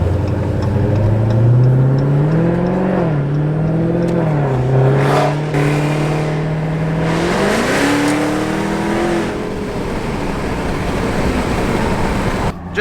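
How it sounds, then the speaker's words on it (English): A car engine revs up through the gears as the vehicle accelerates, pitch rising and dropping between shifts, heard from inside without talking. "so we're going on a little test drive here."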